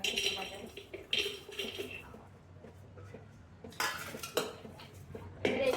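Ingredients tipped into a pressure cooker with metallic pot and utensil clatter, a few sharp clanks in bursts near the start, middle and end, moderately loud at close range over a low kitchen hum.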